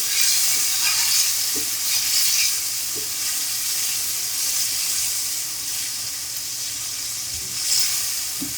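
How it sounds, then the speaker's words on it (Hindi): Boiled beef fries in oil, giving a loud, continuous sizzle close by, with occasional stirring scrapes and faint clicks of a spoon against the pot, and no voices. "तेल के अंदर हम इसको 7 से 8 मिनट भून लेंगे"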